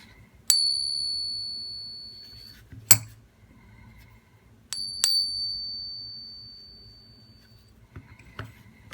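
Silver dollar coins struck to test for counterfeits, two clear high metallic rings, each a sharp tap followed by a long fading tone, with softer clinks in between in a quiet room.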